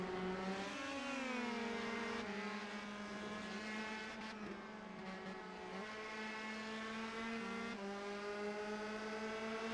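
Race car engine at Lime Rock Park howling steadily through the chicane, pitch dipping and climbing as the driver lifts, downshifts and accelerates again, loud and close with no talk over it.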